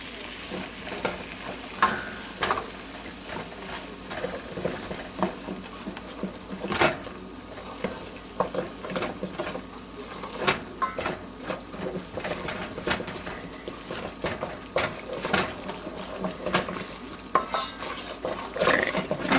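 Flour is stirred into melted butter in a pan for baked macaroni and cheese, giving a steady soft sizzle with repeated scraping strokes of a utensil against the pan, close and fairly quiet throughout.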